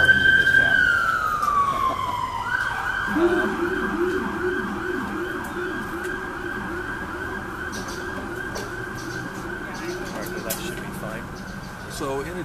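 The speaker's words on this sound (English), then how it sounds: "Sure, a lot of sirens in this town." An emergency siren wails loudly nearby on a St. Petersburg street, a descending tone giving way to a rapid repeating yelp that holds steady over road traffic noise.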